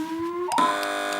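A quiz show buzzer on a panel comedy game show blares as a loud electronic tone that rises sharply in pitch and then holds steady, following a lower hum.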